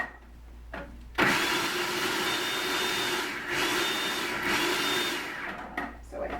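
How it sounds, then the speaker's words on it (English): A food processor chopping monarda runs loud and continuous for about five seconds after a sudden start, with a steady whirring motor drone, then cuts out. "put this on my food processor. And this will be a little loud, but it'll be just a quick moment"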